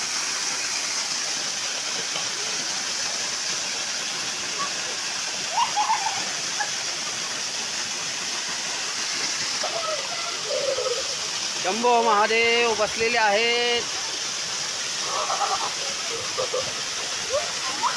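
Cold water pours down a Konkan waterfall where people sit bathing, a constant near roar with someone speaking briefly over it and a few scattered splashes.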